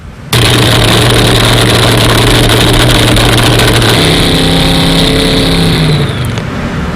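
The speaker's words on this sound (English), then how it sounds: "The last time we got the chance to see the Legacy Car rev up was at Pecos High School 1 year ago" The Chris Kyle Legacy Car, a high-performance race car, revs loudly at close range. Its engine holds a high, steady roar, then the pitch drops and settles, with no talking.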